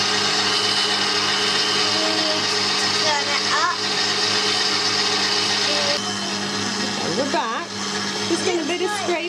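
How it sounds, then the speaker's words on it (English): A stand mixer with a dough hook works gluten-free dough, giving a steady whirring motor hum throughout while people talk over it. "Never used the dough hook on our mixer before."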